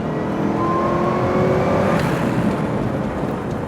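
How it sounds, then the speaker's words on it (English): A 2018 Ford GT's engine roars hard under acceleration from inside the car, a loud raw rising drone that swells and holds before easing slightly toward the end. "The kind of noise that engine makes behind you"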